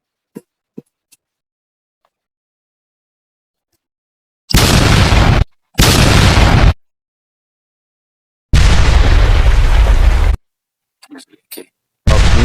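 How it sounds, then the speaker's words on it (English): Explosion sound effects previewed in a mobile video editor: several loud, abrupt booms separated by stretches of silence, along with a few faint clicks. "Over here, explosion, yeah."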